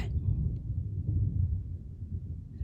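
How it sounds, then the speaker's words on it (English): Thunder from a big thunderstorm rolls as a deep, low rumble that swells and fades over a few seconds, heard from indoors and moderately distant. "Big thunderstorm."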